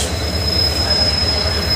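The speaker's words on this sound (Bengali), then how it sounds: "স্টেশনটা দেখতেই পাচ্ছ সমস্তিপুর স্টেশন এটা" A train at Samastipur railway station gives a sustained, high metallic wheel squeal over a continuous low rumble, loud and close throughout.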